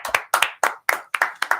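Close, sharp hand claps in paired bursts, about six double claps in quick rhythm, loud and with no talk over them.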